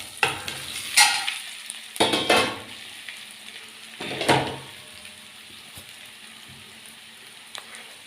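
Hot oil sizzles as asafoetida, curry leaves and steamed vegetable muthiya are added to a pan, with three or four sharp loud crackling bursts followed by a quieter steady fry, heard close up.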